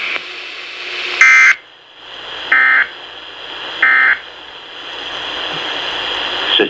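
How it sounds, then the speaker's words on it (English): A Weatheradio Canada receiver sounds its alert activation test tone in three loud, steady high-pitched bursts, the first slightly longer, separated by quieter background hiss. "Ce message est destiné à tester les fonctions d'activation d'alarme des récepteurs Radio Météo."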